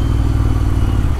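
A Royal Enfield Interceptor 650 motorcycle fitted with Red Rooster exhausts rumbles loudly and close by, its deep, throbbing exhaust note steady through the short stretch.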